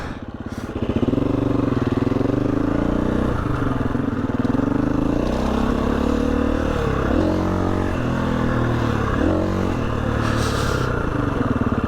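Motorcycle engine revving hard and continuously through a throttle-only wheelie, with no clutch use, loud and close with small surges in pitch and some rattling clatter.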